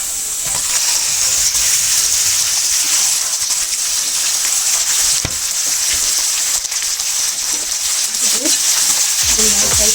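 Chicken liver frying with onions in a pan gives a steady, loud, dense sizzle that runs unbroken throughout, with a few soft stirring knocks near the end.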